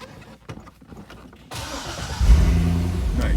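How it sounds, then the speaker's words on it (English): A car with a Corsa exhaust cranks and fires up from quiet, the engine catching after a few seconds of faint interior noises and settling into a deep, loud rumbling idle close by. "Nice Corsa exhaust, sounds great."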